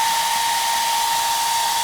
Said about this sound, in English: One thing I'm going to use to help make this faster is a hairdryer